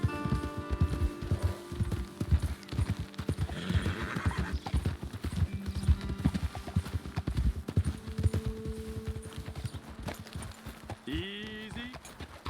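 Horse hooves clip-clop on hard ground at a walk in the video game Red Dead Redemption 2, with a horse whinnying partway through and again near the end, under faint background voices.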